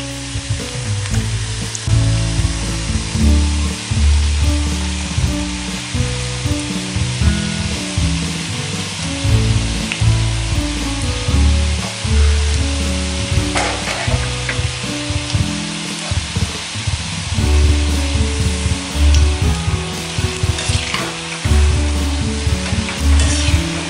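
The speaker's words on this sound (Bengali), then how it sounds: "এরপরে আমরা নিমকিগুলো ডুবো তেলের মধ্যে ভেজে নেব" Nimki pastry pieces deep-fry in hot oil with a loud, continuous sizzle and bubbling, broken by intermittent stirring and scraping of a utensil in the pan, with no talk.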